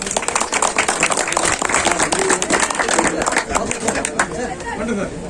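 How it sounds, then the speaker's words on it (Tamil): A crowd claps steadily at an outdoor Lions District 324 N beach-cleanup and medical-camp ceremony, the dense, continuous applause running the whole time with murmured chatter mixed underneath. "நல்ல ஒரு கைத்தட்டும்"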